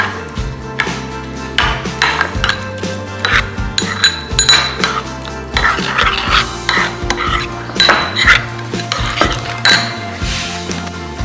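Spoon clanks and scrapes against a pot or bowl while ground black pepper is mixed into a braised short rib marinade for Korean galbijjim, with busy, irregular metallic clinks continuing throughout, close and fairly loud.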